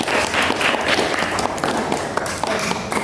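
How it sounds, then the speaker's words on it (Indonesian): Students in a classroom give a burst of applause during an automotive electrical lesson, a dense and fairly loud patter of many hands clapping steadily the whole time, with a few scattered taps. "Beri tepuk tangan buat."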